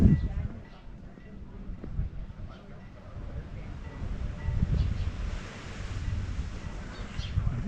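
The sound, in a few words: small sea waves at a harbour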